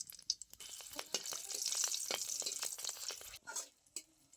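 Nigella seeds and green chillies spluttering in hot mustard oil, a crackly close sizzle with sharp pops and a stirring scrape, rising then cutting off briefly before a few last crackles; no talking.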